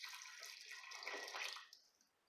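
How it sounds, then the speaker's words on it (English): Water poured from a cup into a pot of vegetable stew, a steady splashing pour that fades out toward the end, close and alone. "I'm going to add 1 additional cup of water here,"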